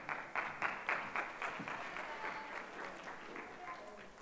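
An audience applauds a prize winner at an evening session of a coding hackathon, brisk clapping at moderate loudness that tapers off gradually, with a voice speaking over it.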